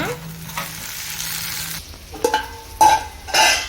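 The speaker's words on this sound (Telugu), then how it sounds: "ఇవి మంచిగా వేగాలి. వేగిన తర్వాత చికెన్ వేసుకుందాం. పుదీనా కూడా వేసేస్తున్నా." Onions, mint and other ingredients fry and are stirred in a pan for a Sunday chicken curry, giving a steady close sizzle with scraping stir strokes and a few louder clatters toward the end.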